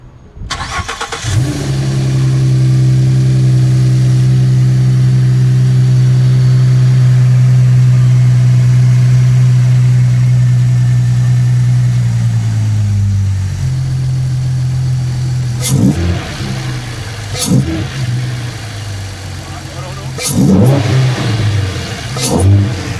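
A Ford Mustang engine fitted with an Airaid cold air intake cranks and catches, settles into a steady loud idle, then revs sharply several times in quick bursts near the end.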